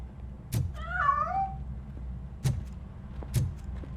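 A cat in the video game RoboCop Rogue City gives one clear wavering meow, with a few sharp knocks or thumps around it.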